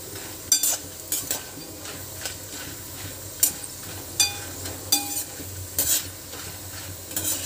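Sandge, lentil dumplings, fry in oil over low heat, a soft continuous sizzle punctuated by regular clinking stirs of a spoon against the pan, close and fairly quiet.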